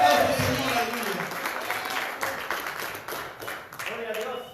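Congregation applauding during a Spanish-language evangelical church service, a broad wash of clapping that swells loud at the start and continues steadily for several seconds while a preacher's voice carries over it.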